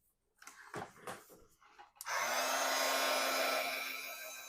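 After a few soft handling knocks, a handheld dryer switches on and blows with a steady, loud whirring hiss, drying Aleene's Ultra Industrial Strength glue on a collaged vase.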